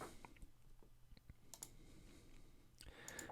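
A computer mouse clicks a handful of times, quiet and close, with small irregular taps scattered over a faint background hiss and no voices.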